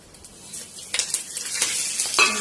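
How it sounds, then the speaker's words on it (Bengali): Spices drop into ginger and green chili oil heating in a pan for curry, setting off a loud, steady sizzle that swells in bursts as they are stirred, with no voices. "আর এখানে এবারে এইগুলো সব মশলাগুলো দেব।"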